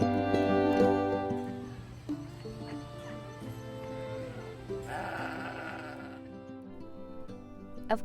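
Sheep and goats bleating at a fair, layered harmonic calls overlapping steadily for several seconds with one louder, brighter bleat in the middle, no talk.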